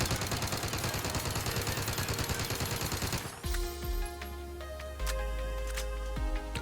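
Milano SMG from Cold War emptying a full 32-round magazine in Warzone, a rapid continuous stream of shots for about three seconds, followed by clinking and mechanical handling sounds.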